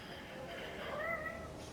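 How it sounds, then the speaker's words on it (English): A pet cat meows in a drawn-out, rising-and-falling cry close by, alone with a faint room hiss and no talking. "there's my cat."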